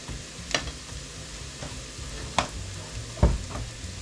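Sausage fries in oil in a pan with a soft, continuous sizzle, broken by a few sharp utensil clicks and scrapes as the pieces are stirred.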